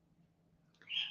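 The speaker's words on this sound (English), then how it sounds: "my birds are being noisy today" Pet birds in a room give a short, bright chirping call near the end, fairly close and moderately loud over a quiet low hum.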